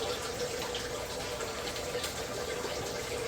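Dirty water from a shrimp aquarium pours steadily through a fine mesh net in a continuous, close splashing rush with no pauses.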